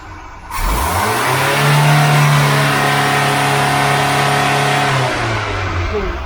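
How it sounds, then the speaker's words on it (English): A Ford Cortina Mk5 1.6 GL engine, freshly tuned up with new ignition, is revved up to a steady high pitch, holds it for several seconds, then eases back down. The engine is loud and close, with no voices. "One last rev check from the PCV."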